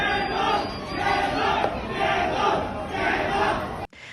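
A large crowd of protesters in Shenzhen shouting in unison against the lockdown, rhythmic chanted bursts rising and falling, loud and continuous.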